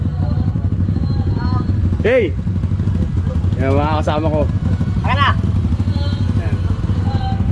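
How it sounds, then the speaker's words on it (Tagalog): Motorcycles idling and running on a trip to Mount Kulago in Bukidnon, a continuous low engine rumble heard throughout, with people shouting and talking over it. "Sasakay kami ng mga motor."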